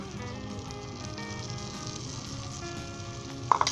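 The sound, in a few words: omelette egg mixture sizzling in melted butter in a pan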